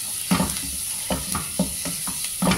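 Washed mushrooms are stirred in a hot pan, giving a steady sizzle and fry hiss punctuated by about six brief scraping strokes of the spoon.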